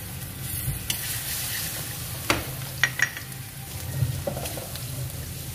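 Shallots and garlic frying in hot oil, with a steady close sizzle and a few sharp spatters and stirring clicks, no talking.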